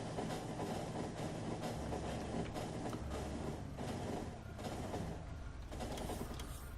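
A train runs steadily in the Factorio video game, giving a continuous loud mechanical rumble and clatter with rhythmic rail noise and no speech.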